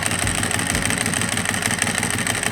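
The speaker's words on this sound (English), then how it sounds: "it's the unique sound of the Ducati." A Ducati 1098 motorcycle with an open clutch cover runs at idle close by, a loud, steady mechanical rattle over a throbbing engine note with no voices.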